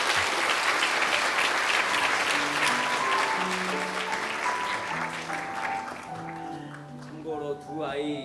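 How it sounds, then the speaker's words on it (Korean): A church congregation applauds after an infant baptism, steady full applause filling the sanctuary while soft organ or keyboard notes play underneath and the clapping tapers slightly near the end. "우리 한번 이들을 위해서 박수 한번 하시죠"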